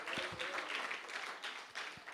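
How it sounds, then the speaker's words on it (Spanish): Thin, scattered applause from a church congregation, a few hands clapping unevenly for about two seconds at moderate distance. "Ese siento el aplauso como medio raquítico"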